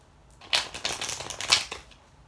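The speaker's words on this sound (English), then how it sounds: "I'm just going to shuffle really quick because I think we need to shuffle." Tarot cards being shuffled by hand, a quick close riffle of crisp flicking bursts over about a second and a half, with two louder peaks and no talk.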